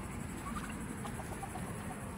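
Chickens cluck softly in the rain, a few scattered short calls over a steady hiss of rainfall.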